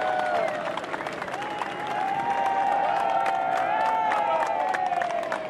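Harbour-side crowd at a Volvo Ocean Race 2011-12 leg 6 departure ceremony cheering and applauding continuously, a broad steady roar with whistles and shouts, while an announcer's voice carries over the top.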